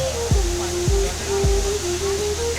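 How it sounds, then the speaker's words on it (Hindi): Man-made waterfall near Sukhi on the Gangotri route in the Himalayas, part of a hydroelectric scheme, gives a steady, even rush of falling water that fills the whole clip, with a tonal line sweeping downward three times over it. "सुकरी के पास स्थित यह झरना पूरी तरह मानव निर्मित है।"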